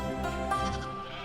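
Sheep kept by a shepherdess bleat in a single wavering, nasal call, close and clear over a quiet background.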